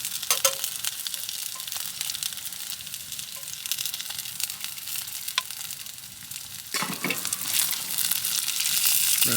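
Onions or similar food browning in a pan over an open fire in a rainy-night tarp hot tent, a steady close sizzle and crackle with a louder burst of frying near the end.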